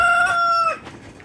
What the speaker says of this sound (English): So we've got somewhere around 70 chickens or so in here.